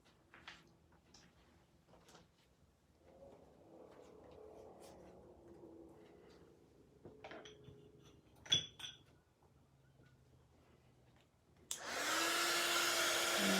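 A heat tool warming white embossing powder switches on near the end with a sudden loud, steady rushing blow that continues to the close, after a stretch of quiet tapping and handling noises.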